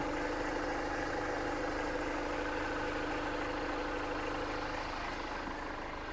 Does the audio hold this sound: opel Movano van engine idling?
yes